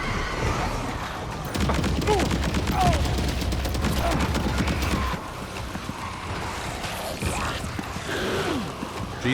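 Rapid bursts of automatic gunfire crackle through a firefight in the video game Death Stranding 2, loud and dense for several seconds, then thinning to scattered shots over ambient game sound.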